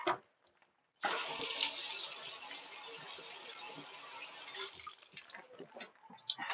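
Water runs steadily from the tap into a bathtub for about four seconds, a loud, even rush that starts abruptly and stops just as suddenly, with quieter handling sounds before and after.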